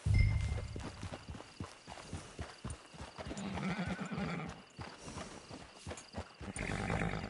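Horse hooves clip-clop in a steady walking rhythm in the Red Dead Redemption 2 video game, with a brief whinny and ambient game sounds around them.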